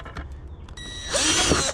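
A power drill bores a hole in a cheap plastic bucket, a few clicks followed by a loud, close whining buzz that rises in the final second.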